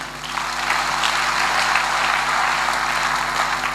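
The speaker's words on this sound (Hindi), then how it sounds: "धन्यवाद के लिए जोरदार ताली।" Loud, dense applause fills a training seminar hall for Safe Shop in Lucknow, a steady crowd clapping at even volume throughout with no talk over it.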